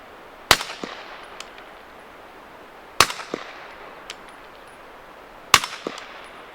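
Suppressed 300 Blackout rifle gunshots fired outdoors: three evenly spaced sharp cracks about two and a half seconds apart, each followed by a brief fading echo over quiet background.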